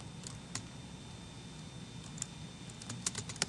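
Typing on a computer keyboard while using Word Q word-prediction software, scattered quiet key clicks in short bursts over a soft background hum.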